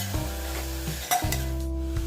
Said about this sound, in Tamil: நல்லா சுருண்டு வர்ற அளவுக்கு நல்லா வதக்கிக்கணும்.